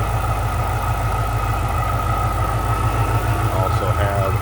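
A supercharged 4.6 liter three-valve V8 in a 2005 Ford Mustang Saleen S281 coupe idles steadily with a low, even rumble that holds at constant loudness throughout.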